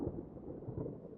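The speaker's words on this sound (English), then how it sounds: "there's a storm rolling in here in about 10 minutes" Low, rumbling thunder from an approaching storm, a continuous quiet roll with soft swells and no talking.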